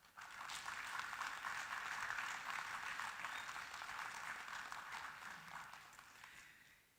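An audience at a university social work pinning ceremony applauds, a broad even wash of clapping that swells quickly, holds steady for several seconds and fades away at the end.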